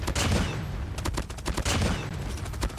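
A PDW-57 submachine gun with the Wasteland's End skin firing in Call of Duty Mobile: rapid, loud automatic bursts of sharp cracks in quick succession, with a short break partway through.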